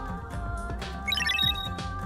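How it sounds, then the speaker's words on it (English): A lounge wall clock alarm rings in the video game Danganronpa 2, a bright repeating electronic chime over steady background music that swells briefly in the middle of the moment. "The lounge's wall clock alarm started ringing at 5:30."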